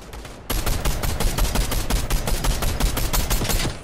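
Rapid bursts of video game gunfire crack out continuously and loudly, a steady stream of close shots with no talking over them.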